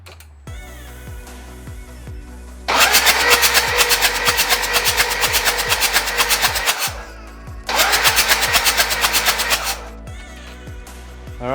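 A freshly rebuilt Toyota 1KZ engine in a Hilux is cranked for its first start. Rhythmic starter chugging leads into two loud, clattering bursts of running engine lasting a few seconds each, with cranking between them, close up and without speech.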